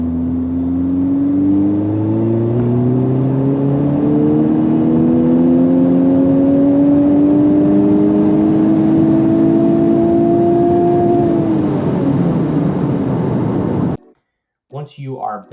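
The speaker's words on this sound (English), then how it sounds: "let's go make one more full 4th gear pull on the street" A Honda Civic Type R on a street pulls hard through 4th gear, its engine note climbing steadily and loudly for about fourteen seconds before cutting off abruptly, followed by a brief voice.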